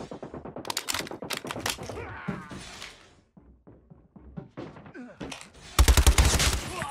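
Rapid automatic gunfire in Call of Duty Mobile multiplayer comes in rattling bursts with short pauses, close and sharp, ending in a loud, dense volley.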